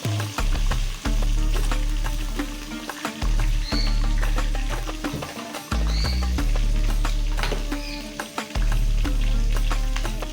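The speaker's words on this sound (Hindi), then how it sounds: "इसमें ये भून गया अच्छे से" Spices fry in a pan for an Eid home-cooked meal, crackling and sizzling beneath loud, rhythmic background music that carries a low, steady pulse.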